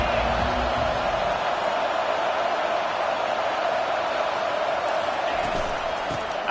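A steady roar of stadium crowd noise fills a football game in College Football 25, a dense, continuous wash of distant voices with no clear breaks.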